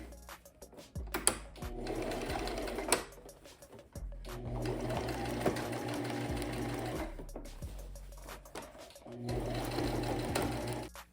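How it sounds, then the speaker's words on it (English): A sewing machine straight-stitches denim jeans with wheat-colored thread, running in three sustained whirring bursts separated by short pauses and light handling clicks, close and fairly loud. "we just gonna sew straight stitch from here to here"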